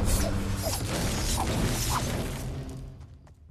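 A door mechanism in the Fortnite video game opens with a sustained grinding, creaking mechanical rumble and faint clicks, loud and steady before tapering off at the end.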